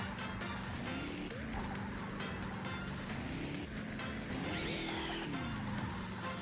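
Karts and moving traffic cars hum along a city track in Mario Kart 8 Deluxe, steady engine drone with rising and falling pitch under game music, no talk.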